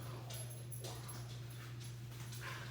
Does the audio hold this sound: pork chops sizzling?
no